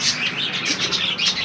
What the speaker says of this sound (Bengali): এই যে আমার পাখিগুলো কিচিরমিচির আওয়াজ করতেছে